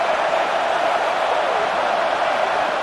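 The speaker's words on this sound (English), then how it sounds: "It's early, but this crowd is fired up. Listen to this noise here." Dense, steady stadium crowd roar in the College Football 26 video game, a loud, unbroken wash of noise with no distinct voices standing out.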